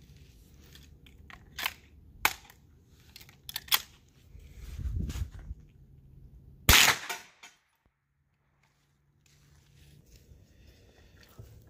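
Sharp gunshots from a Hi-Point 995TS carbine fitted with a LongShot lower rail, several spaced reports at an outdoor range followed by one loud close shot, then quiet.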